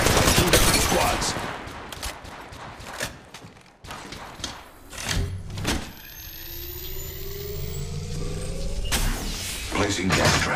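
Rapid gunfire bursts crackle in a mobile battle royale shooter, sharp overlapping shots mixed with loud in-game effects and a rising mechanical whine, with a short drop partway through before the dense action resumes.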